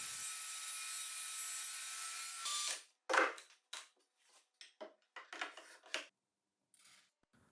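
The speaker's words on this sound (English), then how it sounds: "And now I'll cut the slider out of a piece of HPL." A saw cuts a slider out of a piece of HPL laminate in a portable workshop, beginning with one sustained rasping pass and then breaking into short, irregular strokes and pauses, close and fairly quiet.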